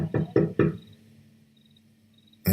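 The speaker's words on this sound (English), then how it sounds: "so I just knocked really hard." Three hard knocks on a building's front door land in quick succession, loud and close, followed by a long quiet pause and a sudden bump at the end.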